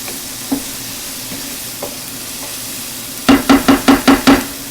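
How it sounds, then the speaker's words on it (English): Garlic sautés quietly in a pan with a soft steady sizzle, a few faint single taps, then a quick run of about six sharp stirring scrapes near the end. "And we saute this until the garlic is just fragrant."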